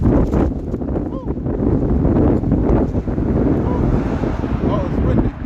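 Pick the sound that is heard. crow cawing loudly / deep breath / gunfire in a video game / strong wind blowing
strong wind blowing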